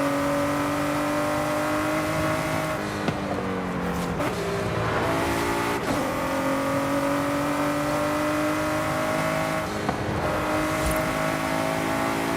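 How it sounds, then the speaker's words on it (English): A car with a six-speed gearbox accelerates hard in the Forza Horizon 5 racing game, its engine climbing in pitch through several upshifts, loud and close with brief dips between gears. "the acceleration on the 6-speed is pretty cool, pretty fast"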